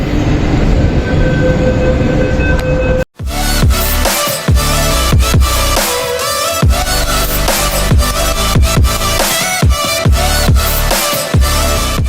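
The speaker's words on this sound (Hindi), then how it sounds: "यहाँ से आएगा हमारा मेट्रो ट्रेन" A Bangalore metro train pulls into the station at night, a loud close rumble punctuated by rhythmic wheel clacks and sharp rail thumps that keep rolling after a brief cut.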